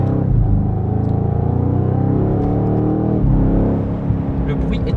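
A BMW M5 G90 V8 with Active Sound enhancement accelerates with a steady, loud engine drone heard from inside the car, one gear change near the middle and the note climbing again, while people talk over it.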